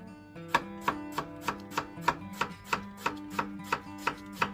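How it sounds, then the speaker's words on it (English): A sharp knife chops an onion finely on a board, about a dozen crisp, evenly spaced knocks close by with no talking. "Nice finely chopped onion. Nice sharp knife."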